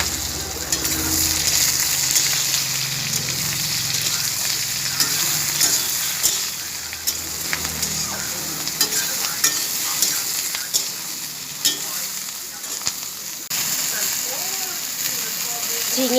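Ridge gourd pieces fry and get stirred in a hot pan. A steady hiss of oil runs throughout, broken by irregular scraping and clacking from the spatula, and the sizzle fades a little toward the end.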